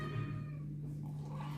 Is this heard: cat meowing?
yes